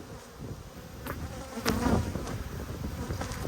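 Agitated honey bees buzz around an open Australian backyard hive during an inspection, a dense, steady hum close by with individual bees zipping past the listener.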